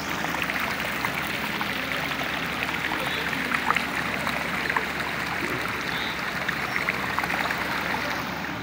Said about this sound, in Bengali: ও তাহলে এটা কৃত্রিম ঝর্ণা।